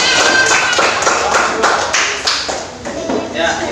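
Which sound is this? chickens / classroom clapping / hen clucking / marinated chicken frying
classroom clapping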